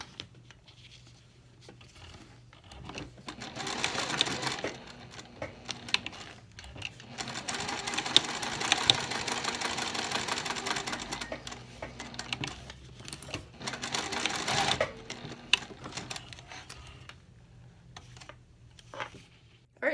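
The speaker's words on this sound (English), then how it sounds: "we're going to stitch down the right side" A sewing machine stitches down the side of an all-cork trifold wallet, running in three long, steady bursts with short pauses between them and no talking.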